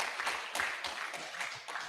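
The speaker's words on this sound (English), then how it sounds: "Another round of applause for the" Brief applause from an audience at an official launch ceremony for an architects registration program, a soft, somewhat distant patter of clapping hands.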